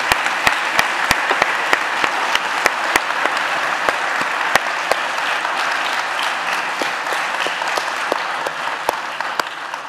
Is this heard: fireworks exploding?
no